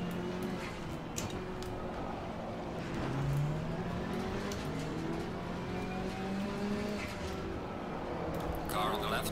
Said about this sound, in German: Weil die Karre auch ein bisschen leiser ist, als der Mustang vorhin.